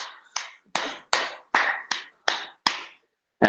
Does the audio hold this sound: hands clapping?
yes